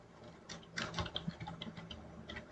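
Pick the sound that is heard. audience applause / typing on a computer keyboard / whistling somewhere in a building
typing on a computer keyboard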